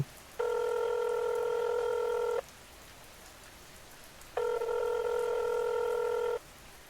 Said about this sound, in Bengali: ঠিক তখনই ফোনটা কাঁপল।